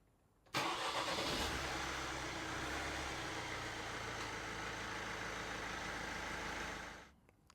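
A 2018 Vauxhall/Opel Astra K 1.6 CDTi engine with an intermittent starting fault cranks continuously for several seconds with a steady whirring churn, never catching, then cuts off into quiet.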